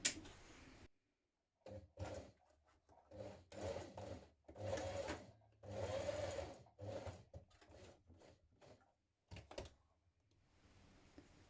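Sewing machine stitching a folded T-shirt neckband in place, quiet bursts of rapid mechanical whirring broken by short pauses, close and alone with no talking.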